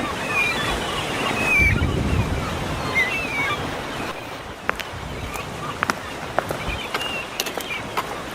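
Waves wash onto a beach shore where boats are moored, a steady broad rush under gusty wind buffeting the microphone, with a few faint clicks and distant voices.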